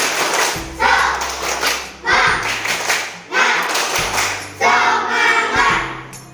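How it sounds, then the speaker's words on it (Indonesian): Schoolchildren perform a spirit clap in class, bursts of rapid group clapping broken by heavy thuds, repeating in a lively rhythm four or five times, close and loud. "Tepuk semangat."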